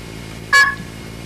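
One short, bright multi-frequency key pulse beep from a blue box phone-phreaking device, sounding once alone and cutting off sharply.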